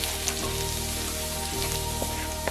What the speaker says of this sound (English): Heat some oil in a wok or skillet over medium-high heat. Add the minced garlic and sauté until fragrant.